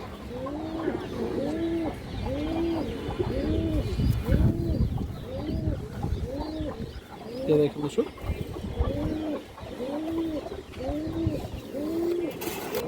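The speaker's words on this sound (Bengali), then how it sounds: "অনেক সুন্দর একটা কবুতর দর্শক" Pigeons coo in a steady repeating rhythm nearby, with someone speaking briefly over the soft, throaty calls.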